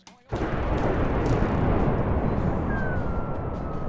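A Minecraft lightning strike: a sudden loud crack bursts into a sustained roaring, rumbling blast that fills the space for several seconds, with a faint whistling tone sliding down near the end.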